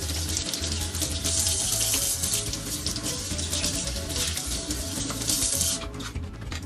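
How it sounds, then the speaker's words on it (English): Cabbage leaves rinsed under a running kitchen tap into a colander, a steady close hiss of flowing water that shifts slightly as the leaves move, with no talking. "So I'm going to give these a little rinse as well."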